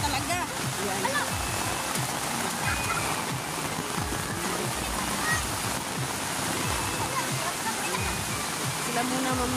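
Steady rushing water of a river in farmland fills the whole stretch, a dense broadband flow like a river running fast, with faint voices underneath.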